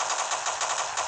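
Rapid automatic gunfire from an online multiplayer shooter game, a continuous rattling burst of fast shots at steady loudness with no talk over it.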